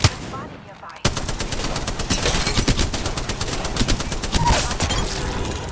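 Sustained automatic gunfire in Apex Legends: after a short quiet lead-in, a loud, continuous stream of rapid shots runs to the end, with a voice occasionally heard underneath.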